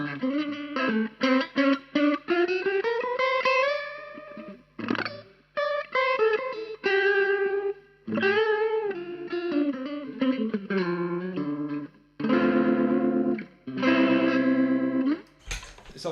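Electric guitar run through a Coral Mod pedal on its uni-vibe setting, chords and single-note lines with a swirling, throbbing modulation wash, played in phrases with brief pauses, close and solo.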